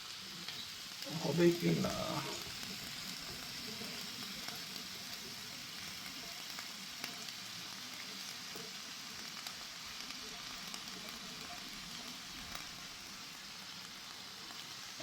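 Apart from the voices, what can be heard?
potatoes and cauliflower frying in a pan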